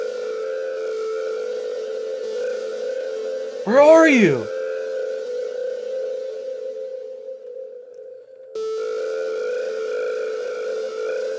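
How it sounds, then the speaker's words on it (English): Dramatic Roads, a Vital synthesizer preset, plays a steady sustained tone with a sweeping, bending burst midway, a brief drop-out near the end, then resumes; a voice speaks briefly. "So this is Dramatic Roads from my Vital preset pack."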